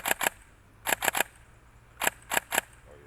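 Sharp trigger clicks of a Silverback Desert Tech MDR-X airsoft rifle with a snappy push-button trigger, loud and close, in quick bursts of two and three with short pauses between.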